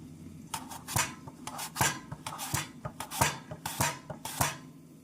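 Rhythmic scraping strokes of a slicer shaving a potato into chips, about a dozen quick rasping passes with faint clinks, steady and close, no talking.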